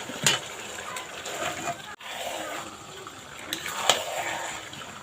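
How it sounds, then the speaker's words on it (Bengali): Water is poured into a pot of chicken curry, bringing a close splashing and sloshing gush with a few brief louder splashes and a short break midway. "গাবলাটা ধুয়ে সামান্য একটু জল দিয়ে দেবো"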